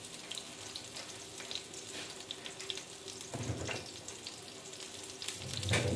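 Chicken chapli kebabs fry in a pan with a steady, close crackling sizzle that swells in brief bursts of louder spattering, with no one talking.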